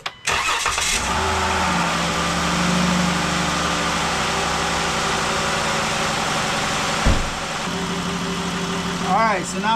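A 2018 Dodge Journey engine starts and settles into a steady idle, a continuous mid-pitched hum with a brief bump partway through, heard close up for nearly ten seconds without talk.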